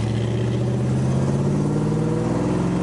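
A 2001 Pontiac Trans Am WS6 engine pulls hard in second gear, a loud, steady mid-pitched roar that climbs as the car accelerates, heard close up inside the car with no talking.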